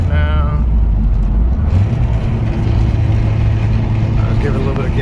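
An Acura RSX engine on a newly installed tuning harness drones and builds with throttle, a steady loud low rumble with a rising tone, while a person talks over it.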